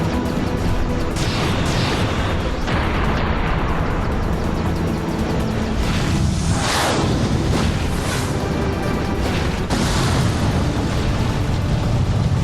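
A whole ship blows apart and goes down in a Final Fantasy Type-0 battle, a loud continuous roar of explosions and rumbling blasts that swells repeatedly, with no speech.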